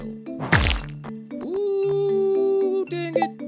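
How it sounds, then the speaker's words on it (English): A sharp thwacking impact followed by a bright, sustained electronic tone and a few short chiming blips: a critical hit effect in Stardew Valley. "So that's the sound of a critical."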